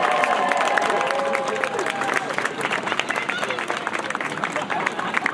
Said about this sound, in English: clap your hands and make some noise for White Chocolate!